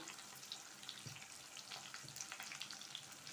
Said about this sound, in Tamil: இப்போ இந்த எண்ணெயில் நம்ம நறுக்கி வச்சுருக்க பாவக்காயை சேர்த்துக்கலாம்